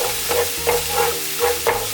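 A block of tofu crushed and stir-fried in a dry pan over high heat: loud, close sizzling with rhythmic scraping strokes of the spatula repeating about once a second.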